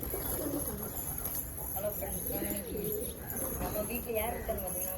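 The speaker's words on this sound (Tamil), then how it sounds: "இந்த புறாலாம் என் கையிலையும் வந்து திங்கும்" Pigeons coo repeatedly close by at a home pigeon loft, their soft low calls mixed with some wing and foot shuffling while a person talks over them.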